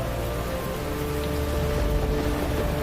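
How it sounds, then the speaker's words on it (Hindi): Heavy rain pours down over a town in a steady, dense hiss of falling water with a low rumbling undertone, loud and unbroken throughout. "कुछ ही देर में नगर में भयंकर वर्षा शुरू हो गई।"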